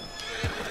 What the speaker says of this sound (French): Allez mon cheval, cabre.